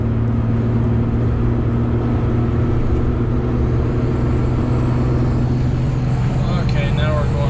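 A 1962 Chevrolet Corvair Monza 900 drives along the road at about 50 mph, its steady engine drone and road rumble continuous and loud from inside the car.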